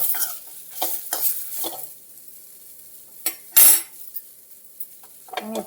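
Sesame and other ingredients for a traditional sesame chutney being dry roasted and stirred in a pan: intermittent scraping and stirring strokes with a faint sizzle, a sharp louder clatter midway, then quieter stirring at the end.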